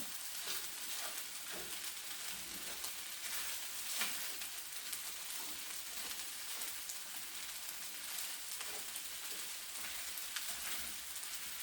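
Scallop fried rice mixed with egg white in a frying pan: a faint, steady crackling sizzle with light stirring ticks scattered throughout and no voices.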